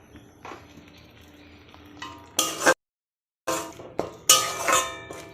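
Poppy seed and fennel paste being stirred in a frying pan, with irregular metallic scrapes and clinks of a spatula against the pan, loud and close, broken by a brief silent gap.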